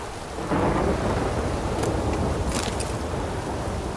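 Heavy rain and rolling thunder in The Witcher 3: Wild Hunt, a dense, steady downpour hiss with a deep rumble swelling early on, continuous and loud without any voices.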